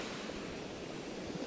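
Sea waves wash steadily onto the shore in a continuous, fairly quiet rushing surf with no distinct breaks and no voices.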